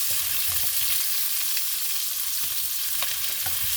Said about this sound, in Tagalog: I-brown lang natin ang ating sibuyas.